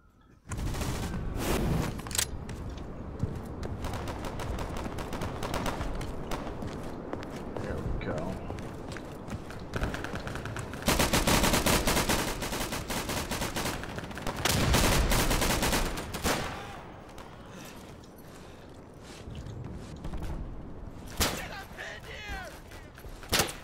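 Rapid gunshots and bursts of machine gun fire in the World War II shooter Day of Infamy, dense and loud throughout, with heavier volleys midway and footsteps mixed in.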